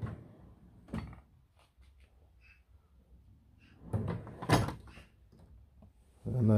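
Metal drawers of a Halfords advanced tool chest slide open and shut with rattling runners and a few sharp clunks, loudest near the middle and end, between quieter stretches with a voice faintly present.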